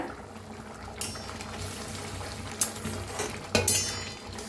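Onion dal bubbling in a steel pot on the stove, a steady simmering hiss with occasional sharper clinks and scrapes as the pot is stirred.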